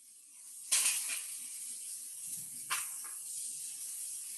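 Eggs dropped into a hot pan beside softened vegetables give a sharp burst of sizzling hiss, with a second flare a couple of seconds later, then a steady frying crackle continuing underneath.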